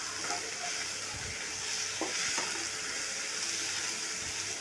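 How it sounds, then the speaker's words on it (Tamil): Chopped tomatoes sautéing in a pan for tomato chutney, a soft continuous sizzle with a few brief stirring knocks, close and fairly quiet. "தக்காளி நல்லா அந்த ஸ்கின் எல்லாம் சுருங்குற அளவு நல்லா வதக்கி எடுக்கணும்"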